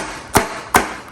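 Three sharp knocks of a blade striking a board, spaced evenly about a third of a second apart over a faint background hiss.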